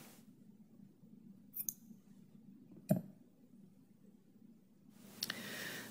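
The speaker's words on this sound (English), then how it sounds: "We're going to take this strand and cut it." A strand of knitting yarn is snipped with scissors during a loom-knit picot bind-off, a single quiet click standing out near the middle with a couple of faint handling clicks around it, otherwise near silence.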